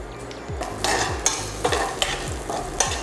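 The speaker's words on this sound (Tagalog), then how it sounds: "So last na lulutay natin yung ating garlic." Whole garlic cloves sizzle in a pan while a utensil stirs them in regular strokes, each scrape marked by a brief clatter over the continuous frying hiss.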